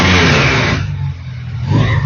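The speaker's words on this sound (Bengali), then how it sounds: "তো এই হচ্ছে বাইক, এবং এখানের মধ্যে হচ্ছে আপনার সাউন্ড শুনিয়ে দিই।" A motorcycle engine revving loudly up close, a harsh roar that drops back toward idle midway and then climbs again near the end.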